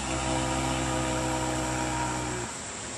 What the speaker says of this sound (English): If you play the didgeridoo too loosely with your lips, it might sound like this.